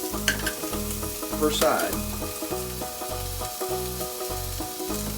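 Chili lime pork sears in a hot pan with a steady, loud sizzle, overlaid by a regular pulsing hum and a brief clatter, while a person speaks briefly.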